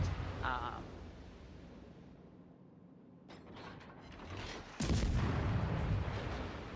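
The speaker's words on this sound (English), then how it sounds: "these salvos are fairly accurate" Naval artillery salvos fire in a ship combat video game, distant rumbling booms under mechanical clanking, then a heavy, louder blast that rolls on near the end.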